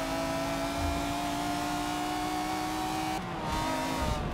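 A V12 race car engine in the video game Forza Motorsport 7 drones steadily at high revs, a smooth, buzzing tone heard from outside the car, then a brief dip before it resumes.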